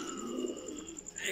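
Pigeons on a rooftop give soft, low cooing calls, a faint sustained murmur close by with a few light chirps, and no talking over them.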